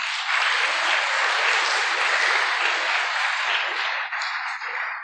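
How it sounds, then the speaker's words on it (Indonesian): A crowd bursts into sustained applause for Pak Ahmad Salam at a religious gathering, dense steady clapping filling the room for about five seconds before tapering slightly at the end. "Tepuk tangan untuk Pak Ahmad Salam."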